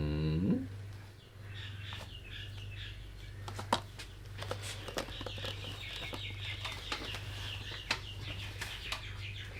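Birds chirp and cluck outside in scattered bursts, fairly faint beneath a steady low indoor hum, with a brief voice near the start.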